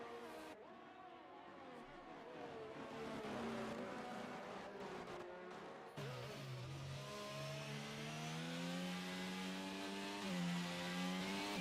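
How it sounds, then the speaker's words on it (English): F1 race cars rev in a wet-weather racing video game at Singapore, with layered high-pitched engine whines climbing and falling continuously at a fairly steady loudness and no talk. "Seeing these guys rev the cars so much in this rain has me frightened."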